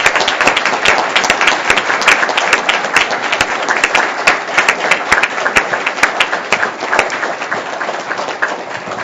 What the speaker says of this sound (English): give these tremendous public servants a round of applause